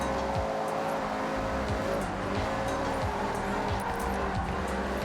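A car in Forza Horizon 6 fitted with a more aggressive exhaust, its engine droning loudly and continuously with rising and falling pitch as the throttle shifts, close and dominant.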